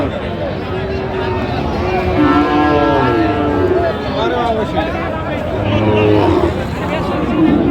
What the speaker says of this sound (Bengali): এখানে সুন্দর গরুগুলো কিনছেন মাজারুল ভাই